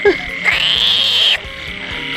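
A frog gives one long, loud, droning croak up close after rain, with weaker calls around it.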